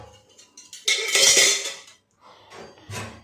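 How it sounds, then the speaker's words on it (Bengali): Metal plates and cooking pots clatter and clink as they are picked up and stacked, with a loud burst of jangling in the middle and a few more knocks near the end. "থালা বাসনগুলো না তুলে নিই"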